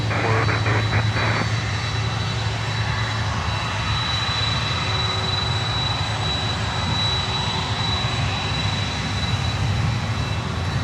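KLM and LATAM airliners roar steadily at Miami airport, a continuous loud jet rumble that fills the whole stretch with no clear breaks.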